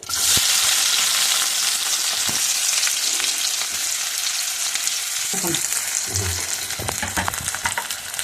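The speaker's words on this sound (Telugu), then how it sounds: "నూనెలో వేగితేనే టేస్ట్ బాగుంటుంది. ఉల్లిపాయ వేస్తాను చూడండి." Onions dropped into hot oil fry with a loud, continuous sizzle that starts abruptly and holds steady, with occasional clinks and stirring knocks from the pan.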